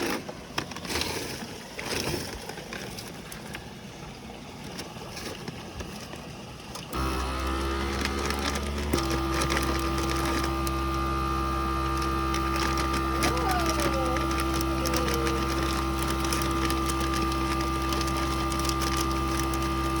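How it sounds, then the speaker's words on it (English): After some rustling, a vacuum sealer motor starts sealing a bag of Dungeness crab and drones steadily with a constant tonal hum, running on without pause near the listener. "Don't vacuum seal them too hard."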